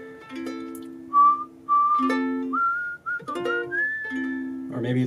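A person whistles a melody up close, clear sustained tones gliding between pitches in several phrases, over a steady backing of low musical notes.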